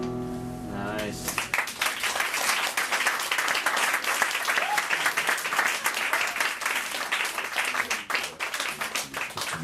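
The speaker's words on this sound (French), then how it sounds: "Applaudissez-la encore une fois, s'il vous plaît, pour l'encourager." An audience applauds after a poetry reading, a dense burst of clapping that starts sharply and sustains loudly for several seconds, with a voice briefly heard at the start.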